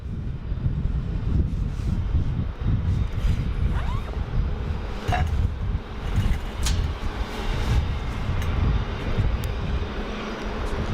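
A Sichuan Airlines airliner taxis at Sydney Airport, its engines giving a steady, continuous jet drone from a moderate distance, with occasional wind rustle and small clicks nearby.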